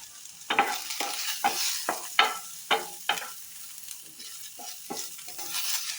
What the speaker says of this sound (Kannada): ಸ್ವಲ್ಪ 1/4 ಟೀ ಸ್ಪೂನಷ್ಟು ಎಣ್ಣೆ, ನೀರುಳ್ಳಿ ಹಾಕುವ. ಒಂದು ಸಣ್ಣ ನೀರುಳ್ಳಿ, ಕರಿಬೇವು,